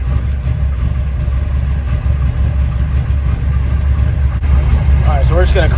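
A 572 big block Camaro cruising on the road, its engine a loud, steady low rumble throughout, with a voice briefly audible near the end.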